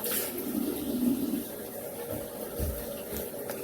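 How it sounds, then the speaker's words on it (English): Water splashing and running while someone wets their face at a sink, steady close wet sloshing with a brief heavier splash near the start and scattered small drips afterward. "Let's get a little wet on the face first"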